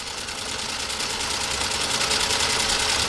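A Pfaff 332 sewing machine with a custom walking foot stitches super heavy leather in a steady, continuous mechanical whir with fast regular needle pulses, close and loud, no talking.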